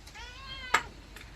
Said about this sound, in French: Mon petit chat.